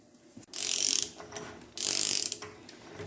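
A socket ratchet clicks through two quick bursts of rapid pawl clicks, close and crisp with short pauses between, while snugging an axle hub nut on a 1948 Ford 8N tractor.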